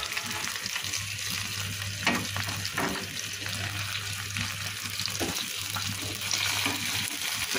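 Thai sarpunti fish frying slowly in oil over low heat, a steady soft sizzle with a low hum underneath and a few brief clatters of utensils, no talking.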